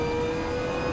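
A Mazda MX-5 ND Cup car engine in the racing game Assetto Corsa, a steady, loud mid-pitched drone with a sustained whine, continuous throughout with no pauses and no talk.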